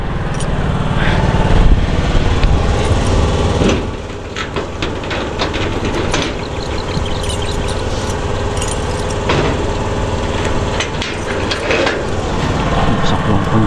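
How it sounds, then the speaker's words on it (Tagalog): A boat engine drones throughout with a steady rumble, close and loud, with clanking and knocking noises and occasional voices over it. "Andar na tayo ng makina."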